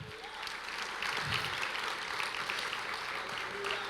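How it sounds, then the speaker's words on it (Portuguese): A church congregation applauds, steady scattered hand-clapping from a roomful of people that sounds somewhat distant and continues evenly throughout, with faint voices underneath. "Vamos dar salva de palmas ao Senhor."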